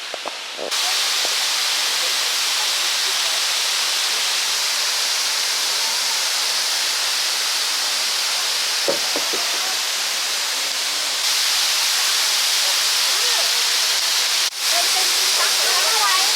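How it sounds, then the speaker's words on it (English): Steady, loud rushing water pours continuously from a nearby waterfall in Cuyahoga Valley National Park, a broad hiss filling the scene with only faint brief sounds beneath it. "this is a waterfall"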